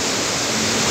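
Floodwater of a swollen river rushing at the confluence of the Kali Gandaki and Rahughat rivers during a night of continuous rain, a steady, loud, broadband roar without any voices.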